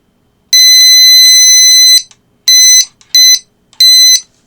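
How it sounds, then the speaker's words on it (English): A stud detector sounds loud, sharp electronic beeps: one long tone lasting about a second and a half, then three shorter beeps in quick succession, with silence around them and no voices. "It's got the stud detector"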